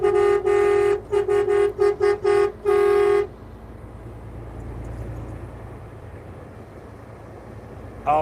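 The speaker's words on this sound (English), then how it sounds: "I honk for all the Super Troopers too." A car horn honks repeatedly in short and longer blasts, loud and close, then stops, leaving the steady rumble of a moving vehicle.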